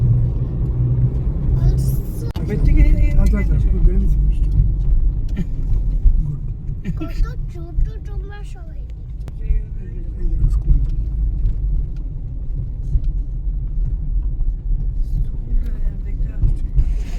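A car rolls slowly into a large parking area near the Gaganachukki and Bharachukki waterfalls with a low, continuous rumble and some wind buffeting, while people talk over it.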